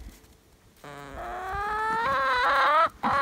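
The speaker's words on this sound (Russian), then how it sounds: "Куры вышли." Chickens on a farm terrace outdoors on a cold winter day give a run of close, loud, rising clucks and squawks that swell toward the end, with no talk.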